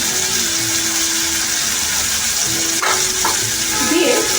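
Cumin, coriander and red chilli powders sautéed in a pan, a continuous loud sizzle with a few clinks and scrapes of stirring near the end.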